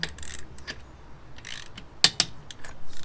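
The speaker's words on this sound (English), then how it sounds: "We just torque the wheels." Car wheel lug nuts being tightened with a torque wrench, giving two sharp metallic clicks close together followed by softer ratcheting ticks.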